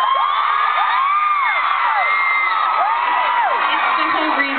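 A packed audience at an author's question-and-answer event screams and cheers continuously, with many high-pitched shrieks and whoops rising over a dense, loud crowd roar.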